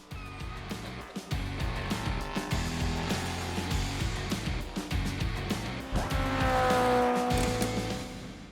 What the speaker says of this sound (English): let me kick this R-Type Honda hatchback Civic Hybrid into high gear